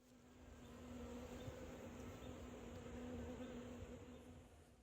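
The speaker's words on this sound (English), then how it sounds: "a swarm of bees that had to find a new place to build their hive" A swarm of bees buzzes steadily nearby, a continuous droning hum that swells slightly and fades, with no voices.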